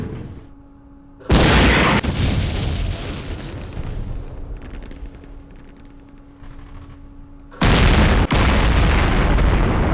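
Explosions from artillery and gunfire in the Campaign Series Middle East wargame: a sudden heavy boom followed by rumbling debris and crackle, fading, then a second loud blast with a sharp crack right after.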